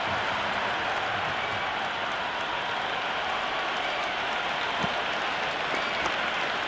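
Continuous broad crowd roar and applause from a stadium in the cricket video game Cricket 26, a steady dense wash of cheering with no clear breaks.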